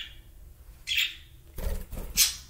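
A pet budgie parakeet gives a few bright chirps close by, followed by short bursts of fluttering wing flaps as it flies off, in a quiet indoor room.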